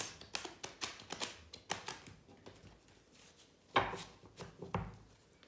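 A tarot deck being cut and shuffled by hand: a quick run of soft, papery card slaps and riffles, close and fairly quiet, with one sharper snap partway through.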